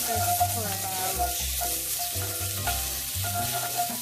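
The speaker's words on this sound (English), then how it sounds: "So what we want to do now is add the shallots." Shallots sizzling steadily in a hot pan for a lamb dish, a continuous loud crackling hiss with small pops, close up and with no voices.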